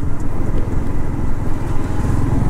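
A vehicle rumbles past on a road, a steady loud engine drone with broadband road noise holding for a couple of seconds, no talking.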